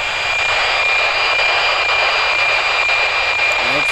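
Radio hiss and static from the NOAA 19 weather satellite on a high south-to-north pass, a steady loud wash of noise with a faint constant tone running through it and no pauses.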